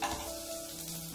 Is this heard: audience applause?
no